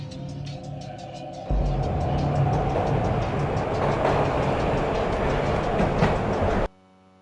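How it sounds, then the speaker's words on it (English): A train rumbles steadily in the video game Max Payne, with a loud, continuous rolling roar and rhythmic clatter that swells in, holds for several seconds, then cuts off abruptly. "This was my second train ride of the night."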